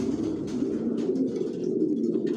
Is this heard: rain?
no